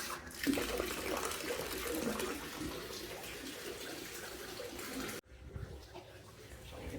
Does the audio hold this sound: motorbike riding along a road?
no